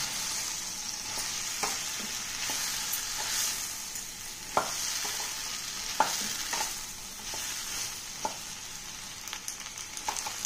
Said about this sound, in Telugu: బెండకాయ ముక్కలు అన్నీ తాలింపులో కలిసేటట్టు కలిపేసుకుందాం